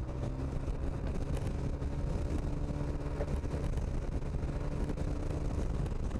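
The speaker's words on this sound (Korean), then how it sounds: "바람 세네, 세." A rider on an Italjet Dragster 125 DOHC scooter with a windscreen hears strong wind roar past a full-face helmet: constant, loud, broadband rushing noise that never lets up.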